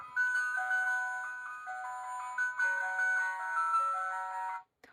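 An ice cream van jingle from a children's toy transport sound book, a tinny electronic melody of bright repeating notes playing alone for several seconds before cutting off abruptly.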